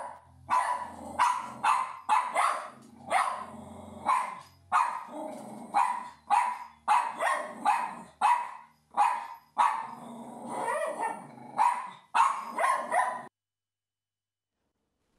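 Two dogs bark over and over in sharp, quick bursts for about thirteen seconds, with some low growling in between and no voices.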